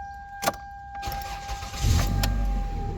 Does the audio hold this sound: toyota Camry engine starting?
yes